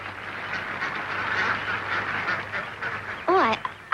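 Ducks at a pond quack in a quick, close burst toward the end, preceded by a soft murmur of background chatter and outdoor ambience.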